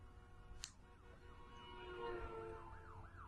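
An ambulance siren wails in a rising and falling pattern inside the video game Trauma Center: New Blood, faint and distant at first and then swelling slightly louder.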